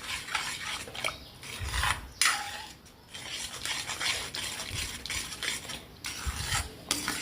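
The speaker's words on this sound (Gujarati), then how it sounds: "ગાંઠા ના પડે એમ આપણે એને સતત હલાવતું રહેવાનું છે" A spoon scrapes and stirs gram flour batter into boiling water in a pot, producing repeated close rasping strokes with a faint bubbling hiss underneath and no speech.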